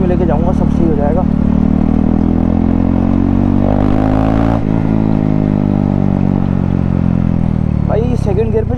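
KTM RC 390 motorcycle with its muffler removed, the engine droning loud and close, revving with a rising surge near the middle and sharp popping backfires bursting out at the start and end.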